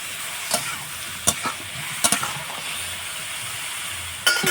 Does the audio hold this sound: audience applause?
no